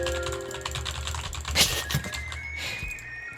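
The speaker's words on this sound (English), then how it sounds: "you can hear me clicking with my mouse louder" Mouse clicks come through during combat in Genshin Impact, sharp repeated taps mixed into busy game music and effects at moderate level, with no talking.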